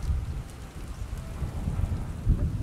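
Steady rain pours down in the stealth video game Splinter Cell: Chaos Theory, a continuous dense hiss with low rumbling weight, occasional heavier gusts swelling through, no voices over it.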